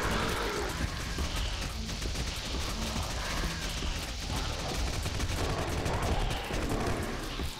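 Rapid gunfire from the player's weapon in the game Action Alien: Tropical Mayhem, a loud, dense fusillade rattling on without pause through the whole stretch, with a faint voice in the background.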